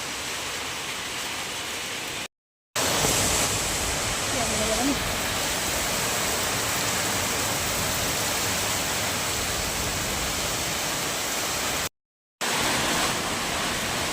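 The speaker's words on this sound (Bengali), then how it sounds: "কী জোরে বৃষ্টি দেখো।" Heavy rain pouring down in a continuous loud, hissing roar that fills the whole stretch, broken by two brief moments of total silence.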